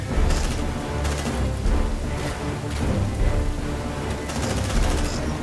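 Sustained gunfire in the sci-fi video game Aliens: Dark Descent, dense overlapping bursts and rattling automatic shots running continuously at close range with no pauses.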